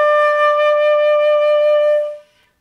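A flute sustains one bright, steady note, D, for around two seconds before it cleanly tapers off into silence.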